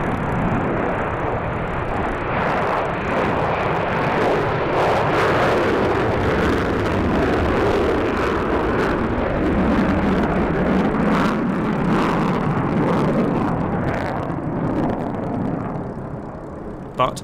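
A B-1 Lancer bomber flies past at a military airshow, a loud, sustained jet roar that fills the whole stretch and fades slightly at the end.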